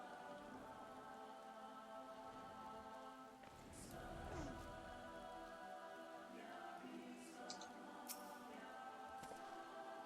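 Rain falls in the video game Final Fantasy XIV, a faint steady patter of drops under soft sustained background music, with a few brief chimes.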